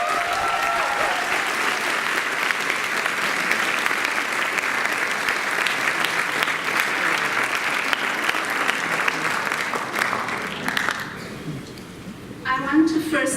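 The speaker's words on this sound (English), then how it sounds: "So a round of applause for both of them, please" A school audience claps hard in sustained applause for two honourees, a dense steady roar that runs for more than ten seconds before it thins and fades, and speech starts faintly at the very end.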